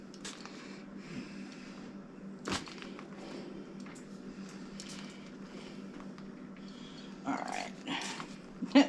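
A dog named Dolly sniffs around a kitchen for dropped cheese, with soft snuffling and quick nasal snorts close by, a sharp knock or clatter partway through, and faint rustling throughout.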